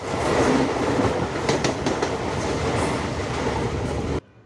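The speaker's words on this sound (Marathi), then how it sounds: "टर्मिनस जाने वाली 12 डिब्बों की तेज लोकल है।" A fast 12-car Mumbai local train bound for the terminus rushes past up close, a loud continuous roar with rattling wheels that cuts off abruptly near the end.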